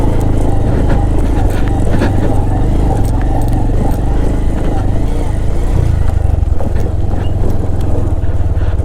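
A vehicle engine labouring in low gear on a steep mountain road toward Sandakphu, a loud continuous drone and rumble with wind buffeting throughout.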